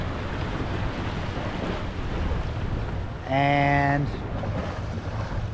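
Waves wash against the Hudson River shore near New York Harbor in a steady broadband rush with wind noise, while someone talks briefly over it and a short tonal horn-like sound sounds midway.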